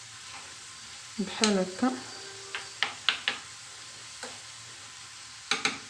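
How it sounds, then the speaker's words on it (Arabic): Onion with spices stirred in a tagine, with scraping clicks and a soft sizzle; a voice talks briefly near the start. "كيف ما كتشوفوا بحال هكا كنحرك البصله ديالي باش تخلط مع العطريه"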